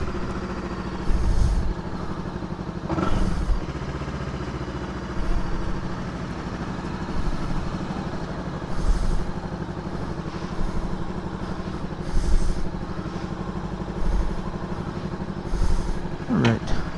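A Voge 525RR motorcycle engine starts and settles into a steady idle, a continuous mid-level mechanical hum punctuated by periodic thumps and clicks, heard close with no talk.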